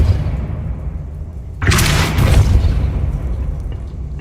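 Depulso spell cast in Hogwarts Legacy, heard as a sudden loud blast with a bright rushing burst that rings and fades over a couple of seconds above a low ambient rumble.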